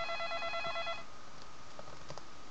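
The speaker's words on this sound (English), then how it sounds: "There's the phone." Electronic telephone ringing in the interactive drama game Facade, a trilling ring for about a second before fading into quiet room ambience with faint clicks.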